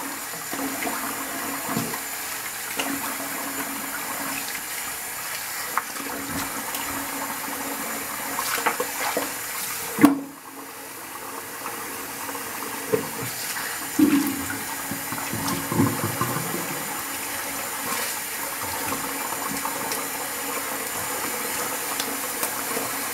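Water running from a bathroom tap while shaving lather is rinsed off a face, a continuous splashing flow that stops abruptly partway, followed by quieter dripping and splashes.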